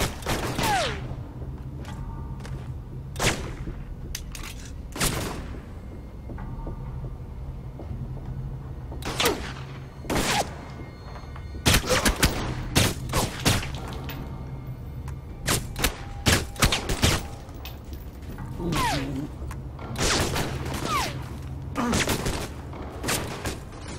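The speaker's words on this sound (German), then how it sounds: "Die schießen jetzt auch schon durch die Wände durch, oder wie?" Gunfire punching through walls in the video game Alpha Protocol: scattered loud sharp shots, some in quick clusters, irregularly spaced over a steady low background hum.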